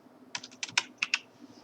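Quick keystrokes tap on a computer keyboard, about seven close clicks in a short burst over a quiet room.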